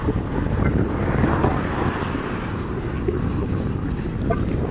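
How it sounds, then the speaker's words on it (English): Wind gusts across an open microphone in a steady, buffeting rush at a railside spot, loud and continuous with no other sounds standing out. "Windy today."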